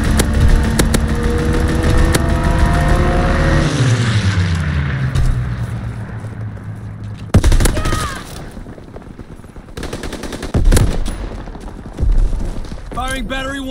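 A fighter aircraft flies in during a video game, its engine roar sweeping downward in pitch as it passes close, followed by scattered explosions and gunfire-like bursts under in-game voices.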